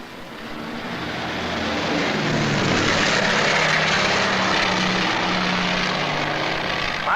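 An Argus maritime patrol aircraft's propeller engines drone steadily in a broad, loud hum that swells over the first few seconds and then holds at full strength.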